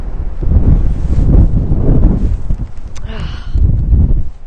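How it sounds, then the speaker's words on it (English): Strong wind gusts across a New England coastal beach in Rhode Island after snowstorms, a loud rumbling buffet on the microphone that swells and eases in waves, with a faint high whistle midway. "Oof, it's windy."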